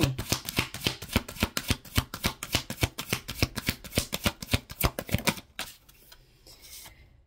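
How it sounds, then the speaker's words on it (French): Tarot cards riffle in a fast, close run of rhythmic snaps during shuffling, then the sound stops abruptly and leaves a quiet room tone with a faint rustle as a card is drawn. "on va prendre 3 cartes avec les anges de l'amour"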